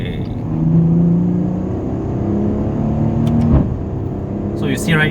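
A 2019 Maserati Levante engine accelerating in manual mode, a steady close cabin rumble with rising gear-held tones and a brief shift, heard from inside the moving SUV.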